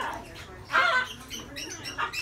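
A pet parrot squawks in a bird shop stocked with macaws, Amazons and caiques, giving several short harsh calls at close range, loudest around the middle, over a busy room hum.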